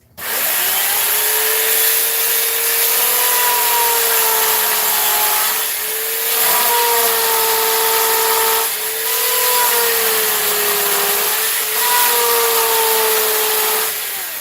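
A dull chainsaw cuts into wood while carving, its engine droning loud and steady in long passes with brief dips between cuts.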